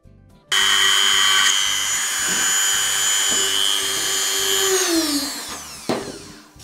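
A Dremel rotary tool drills a hole with a steady, high-pitched whine rich in overtones. The tone holds for several seconds close by, then drops in pitch as the tool winds down near the end, with no voices.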